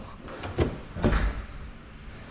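Modular kitchen cabinet drawer sliding and bumping, two short thuds about half a second apart over a low background hum, fairly faint and near, with no voices.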